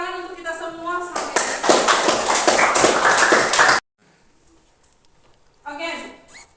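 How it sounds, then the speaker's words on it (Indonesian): A classroom of students claps together in a loud, dense burst lasting about two and a half seconds after a brief spoken line, then it goes abruptly silent before a voice resumes. "Tepuk tangan untuk kita semua sampai."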